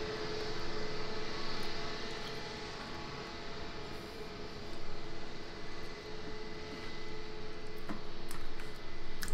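Airliner engine in a Roblox flight simulator, a steady droning whir with a constant tonal hum holding at even loudness throughout, spawned at an airport gate, with no talking.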